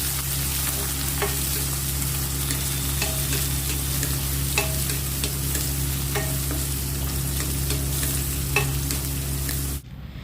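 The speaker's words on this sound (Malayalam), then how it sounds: "സവാള ഒന്ന് നന്നായിട്ട് വഴറ്റാം." Small onions sizzle steadily in hot oil in a pan alongside dried red chillies and curry leaves, a continuous close frying hiss with occasional light stirring clicks, no talk.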